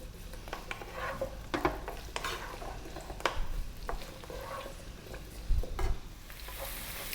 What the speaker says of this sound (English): We're going to drop in our onion and our beets, and we're going to go on just above a medium heat for about 4 minutes.